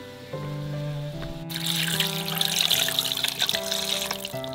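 Water pours steadily into a cooking pan of chicken and mushroom seasoned with oyster sauce, sweet soy sauce and salt, a close continuous trickle that starts partway through over soft background music.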